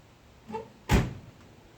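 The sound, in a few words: door being closed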